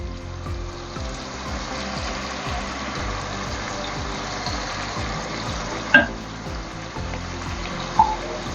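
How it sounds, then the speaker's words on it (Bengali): Butter chicken ingredients fry in a pan, a low steady sizzle of oil with soft stirring, and two brief clinks of a utensil rise above the bubbling. "একটু ভেজে নিতে হবে।"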